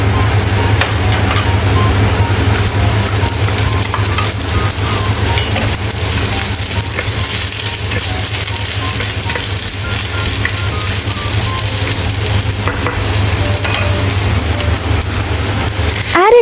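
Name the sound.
stir-frying carrot and corn kernels in a pan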